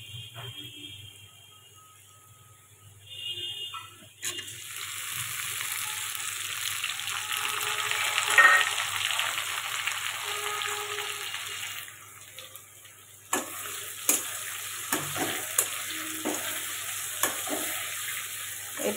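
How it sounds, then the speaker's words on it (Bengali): Onion, tomato and green chilli frying in a pan for a Bengali fish and potato curry, a soft steady sizzle with occasional stirring scrapes, close and fairly quiet, with no talk over it. "এরপরে এর মধ্যে আমি টমেটো দিয়ে দেবো, টমেটো আর লঙ্কা, কাঁচা লঙ্কাটা দিয়ে দেবো।"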